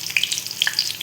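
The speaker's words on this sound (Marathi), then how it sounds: "आपण फ्राय करून घेऊया. इथे तर आपले दुसरे पण फ्राय झालेले आहेत." Boiled eggs sizzle and fry in hot oil in a pan, a steady close crackle with scattered bright pops and no voices.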